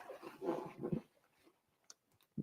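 A puppy dog gives soft whimpering and whining sounds close by, a cluster of quiet cries followed by a couple of brief faint yips, with no one talking.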